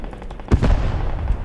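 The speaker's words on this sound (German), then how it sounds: "das ist unsere Arti." Artillery fires in the video game Post Scriptum: one heavy, close boom, then a rumbling, crackling tail that fades slowly.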